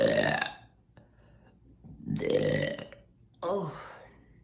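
Loud, drawn-out burps from a person, three separate belches with short pauses between them, close to the microphone.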